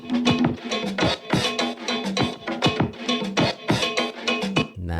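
A busy funk percussion sample plays on its own, with dense, clattering hits in a driving groove and a cowbell-like ring, loud and close.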